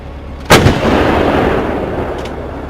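A single artillery gun fires with a loud, sharp boom, then a long rumbling roll of echo that slowly fades over the next two seconds.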